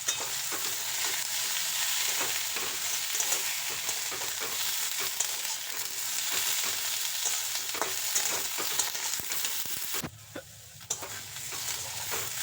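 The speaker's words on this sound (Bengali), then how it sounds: "বেগুনটাকেও ভালো করে ভেজে নেব।" Pieces of eggplant fry in hot mustard oil in a kadai, giving a dense, continuous sizzle and crackle with occasional stirring scrapes, close and steady, easing briefly near the end before resuming.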